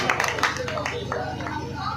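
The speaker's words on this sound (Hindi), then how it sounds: "एक बार तालियां बजाइए दीदी के लिए" Listeners at a poetry recital in Hardoi clap to welcome a female poet, a scattered round of applause with crowd chatter and a voice speaking over it.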